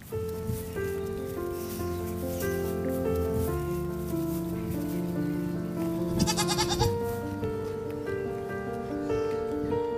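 Goats bleating repeatedly at a farm, several wavering, tonal calls overlapping one another at close range, loud and continuous across the clip without speech.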